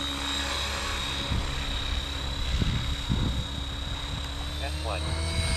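An RC helicopter with a Spektrum AR7210BX flybarless system spinning at 55% throttle, steady high whine and rotor hum held close and constant, with someone talking over it.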